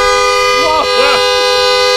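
A crashed Porsche 911 GT3 sounds its horn, loud and steady for about two seconds, with brief wavering swells near the middle.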